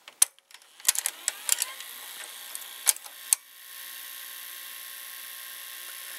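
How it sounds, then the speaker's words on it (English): A Panasonic VCR's tape loading mechanism gives a quick run of sharp clicks and ticks from its solenoid, close and quiet, then settles into a soft steady whir. "This mechanism is very quiet, and it does a clicking sound due to a solenoid in it."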